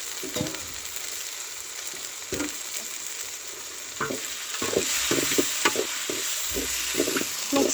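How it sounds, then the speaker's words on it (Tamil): Chicken pieces sizzle in a hot pan with dried red chilies, frying close up with repeated stirring clatters and scrapes layered over a steady hiss. "இப்போ சிக்கன் போட்டுக்கலாம்."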